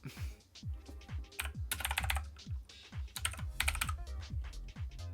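Rapid, continuous typing on a computer keyboard during a tier 1 air traffic control streamed session, close and steady with clustered bursts of clicks and no talking.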